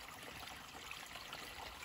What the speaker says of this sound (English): You can hear the water, huh?